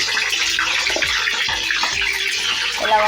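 Cut brinjals for gutthi vankaya curry dropped into hot oil, giving a steady, loud broadband sizzle and crackle that stays close and continuous throughout, with no talking.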